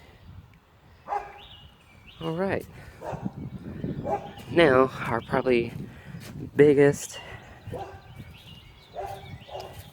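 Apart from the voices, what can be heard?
neighbour's dogs barking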